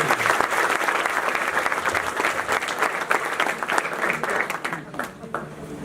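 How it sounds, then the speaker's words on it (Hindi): Loud, dense clapping fills the room at an alumni gathering, holding strong before thinning out near the end. "तो एक बार जोरदार ताली है।"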